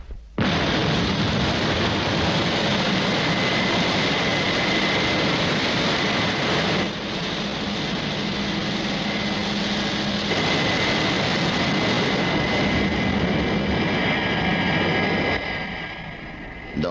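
A roaring rocket-aircraft engine, the Thunderbird from a puppet TV series, sounding at takeoff as one loud, sustained, broadband blast with a steady tone running through it, shifting slightly partway and fading toward the end.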